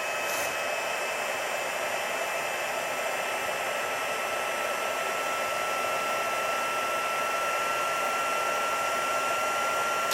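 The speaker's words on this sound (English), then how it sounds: "The heat gun hasn't been on since yesterday, so it's going to take a minute for it to warm up." A heat gun blows hot air to set embossing powder on a stamped card, a constant, close, loud whooshing drone that holds steady the whole time.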